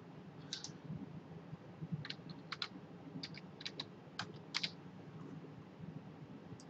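Scattered keystrokes on a computer keyboard as a username is entered, a dozen or so light, close clicks in short irregular bursts over a quiet room hum.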